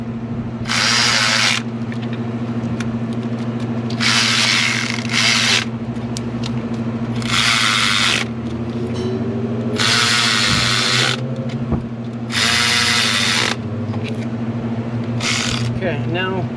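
Hand ratchet tightening fuel rail bolts on a 2006 Ford F350 6.0 Powerstroke diesel engine, heard as several close bursts of rapid clicking separated by short pauses over a steady low shop hum.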